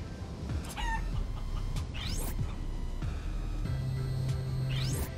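Chicken in the video game Guacamelee! 2, clucking and squawking in short rising calls over game music and effects, several bursts spread across a few seconds with no talking.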